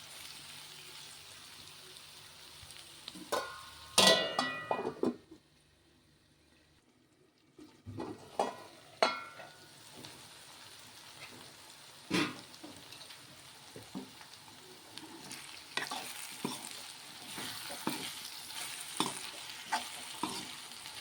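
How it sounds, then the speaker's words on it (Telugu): Brinjal and broad bean curry simmers in a pan, with bursts of spoon-stirring scrapes and clatter over a soft, steady sizzle, broken by a quiet pause partway through. "ఇప్పుడు కారం పట్టేదాకా దీన్ని మగ్గించుకుందాం."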